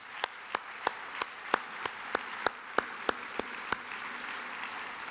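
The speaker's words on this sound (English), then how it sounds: "Let's give them a round of applause for an amazing evening." At the Texas Environmental Excellence Awards banquet, evenly spaced sharp hand claps ring out about three per second over a soft, distant wash of room applause, fading slightly toward the end.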